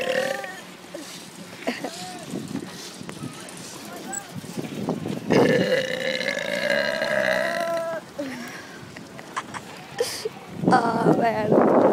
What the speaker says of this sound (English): burping on a ski lift now.